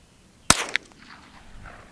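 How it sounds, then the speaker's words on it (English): A single sharp report from a Marlin Model 60 rifle firing a live round outdoors, one loud crack with a short ringing tail, followed by a quieter secondary click and faint fading echo. "I loaded 3 live rounds. We're shooting out at nothing"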